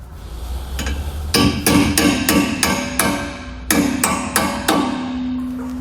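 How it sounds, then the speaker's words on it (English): A hammer drives a B and W Companion OEM fifth wheel hitch part into place on a 2019 Chevrolet, with a few light taps followed by two rapid bursts of loud, ringing metallic blows. "we can go ahead and hammer this on."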